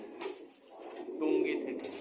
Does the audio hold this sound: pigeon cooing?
yes